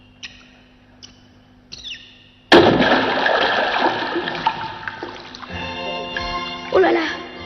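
A sudden loud splash of something plunging into seawater is followed by sustained churning and bubbling water, after a few faint clicks, with a voice briefly audible near the end.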